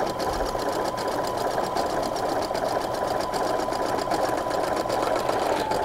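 A sewing machine runs steadily while stitching a back-and-forth hem on a pant cuff, a loud continuous rapid mechanical chatter of the needle and feed with no talk.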